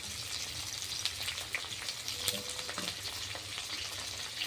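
Ginger paste and chopped green chili fry in hot oil with a steady, dense sizzle and crackle, broken by a few scrapes of stirring. The sound is close and constant, and no one speaks over it.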